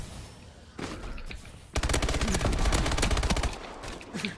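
Video game gunfire: a brief burst early on, then a loud sustained rapid automatic volley that runs for nearly two seconds before tailing off, with no speech.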